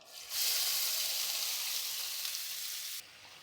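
Chopped onions hit a pan on low flame for a capsicum-onion side dish, letting out a sudden loud, steady sizzle that holds for about two and a half seconds and then cuts off abruptly.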